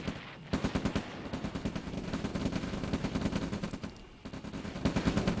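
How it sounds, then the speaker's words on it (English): Rapid weapon fire from rocket troopers in a real-time strategy game, a dense rattling barrage of repeated shots that runs nearly continuously and loud, with a brief lull partway through, as a harvester is destroyed. "Harvester coming in and quickly falling to rocket trooper fire"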